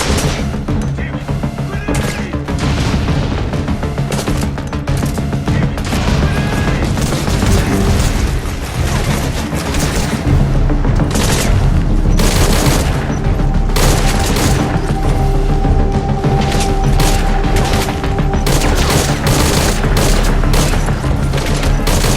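Dense, continuous gunfire and explosions fill a battle in the video game Metal Gear Solid V: The Phantom Pain, with sustained rattling shots and heavy booms overlapping loudly for the whole stretch.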